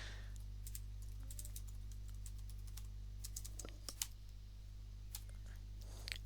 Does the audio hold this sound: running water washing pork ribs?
no